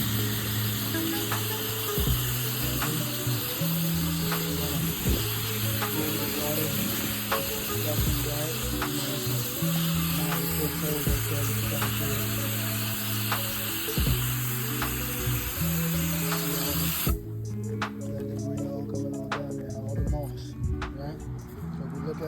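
Water spray hissing steadily as moss is rinsed off a roof during a soft wash, a continuous loud wash with a rhythmic mechanical chugging underneath that cuts out near the end, leaving quieter clicking.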